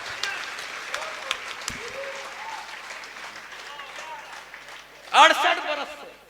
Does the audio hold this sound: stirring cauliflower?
no